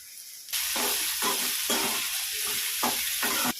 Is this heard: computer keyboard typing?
no